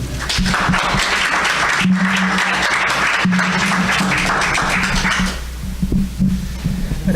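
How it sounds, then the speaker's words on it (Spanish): Audience applause welcoming a doctor speaking on hepatitis C at a geography and statistics society, loud dense clapping for about five seconds, then tapering into scattered claps with a steady low hum underneath. "lo recibimos con un aplauso y le damos el uso de la voz"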